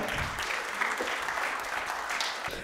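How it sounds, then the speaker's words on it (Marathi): Steady applause from an audience at a children's literature festival welcomes two performers onto the stage, a continuous wash of clapping throughout at moderate loudness. "आपण टाळ्या वाजवून त्यांचं स्वागत करूयात."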